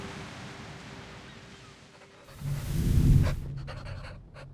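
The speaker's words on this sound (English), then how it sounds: "quite close pencil scratching" Close, stark pencil-scratching effect from the game Monument Valley 3, a quick rasping burst that swells to a peak, much like a dog panting, then fades into softer scratches.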